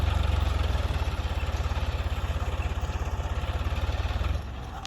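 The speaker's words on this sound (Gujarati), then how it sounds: "આ ભાગમાં ટ્રેક્ટર હાલે છે" A tractor ploughs a farm field with a steady, throbbing engine chug close by, running continuously and then dropping slightly in level near the end, with no talking.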